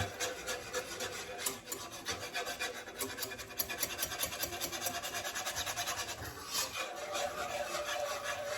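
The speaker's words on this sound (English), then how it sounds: "I'm going to just whisk that flour in this sauce." A whisk works 1 tablespoon of flour into a wine pasta sauce with capers, giving a steady close rasping scrape against the pan that runs the whole time with no talk.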